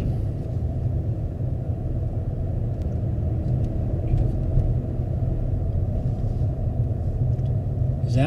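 Traffic rushes by fast on Raleigh Road beside a lake, a steady loud low rumble of passing cars heard from inside a moving vehicle.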